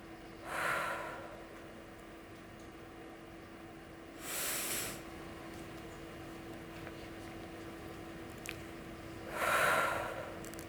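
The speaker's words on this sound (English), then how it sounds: "Taking a deep breath in, holding it for a beat, and releasing." Deep breathing during a guided mindfulness exercise at a TEDx youth event: a few soft, airy breaths spaced several seconds apart, close and fairly quiet over a faint steady hum.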